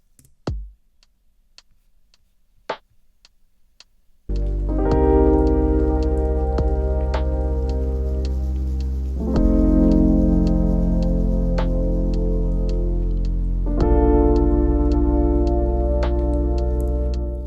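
Lo-fi drum beat shaped with EQ and RC20 saturation, layered with a rain atmosphere; after a quiet lead-in, a steady loud groove with soft ticking hits enters and runs continuously.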